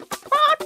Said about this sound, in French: une poule qui cherchait à manger remarqua le biscuit